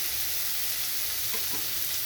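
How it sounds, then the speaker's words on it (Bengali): Bitter gourd slices frying in a pan for a bitter prawn chorchori, giving a steady, close, soft sizzle of oil with a few faint stirring scrapes and no talking. "এখানে উচ্ছেটা একটু ভাজা হয়ে গেছে"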